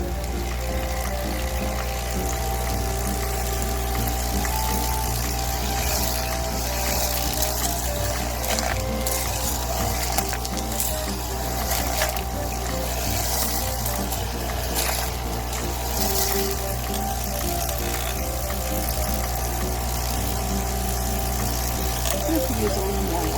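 Water poured into a rock tumbler barrel with a drop of dish soap for a wash cycle, a steady gushing, splashing flow under a constant low hum, with a person talking over it.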